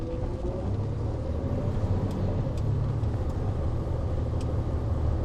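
A big snowplow truck grinds through deep snow while turning, giving a steady low engine rumble with a few faint clanks over the drone.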